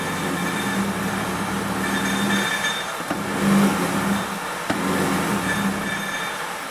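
Nissan Frontier with a low-power fault, its engine held at full throttle while shaking, giving a rough, throbbing drone with uneven pulses and a couple of sharp knocks, close and steady, with no talking.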